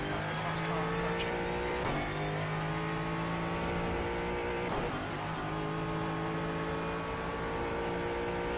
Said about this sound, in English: As the class car approaching.